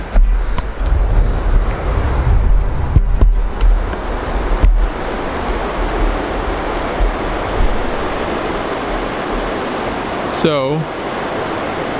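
A river flowing past a half-acre mountain property near Gold Bar, a steady broad rushing of water with some wind buffeting, a brief voice at the start.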